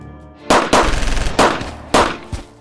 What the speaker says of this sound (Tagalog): Papasok na sana ako nang biglang makarinig ako ng putukan